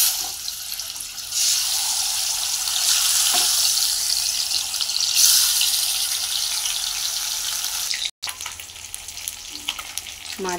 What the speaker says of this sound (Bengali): কড়াইয়ে তেল গরম হয়ে গেছে, এবার মাছগুলোকে ভেজে নিব।